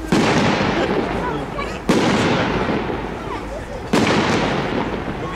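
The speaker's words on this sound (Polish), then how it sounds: "Fajerwerki." Fireworks boom in three big bursts spaced a couple of seconds apart, each followed by a long crackling, rumbling tail, loud and echoing.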